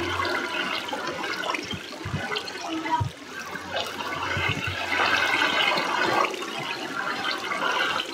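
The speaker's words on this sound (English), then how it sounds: "There might be a river up here because of all the water." Flowing water in the Minecraft video game makes a continuous rushing, trickling stream that runs steadily the whole time at moderate volume, with no voices over it.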